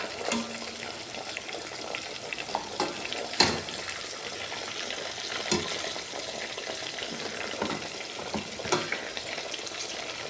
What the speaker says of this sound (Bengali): মাছ আরও ভাজা হোক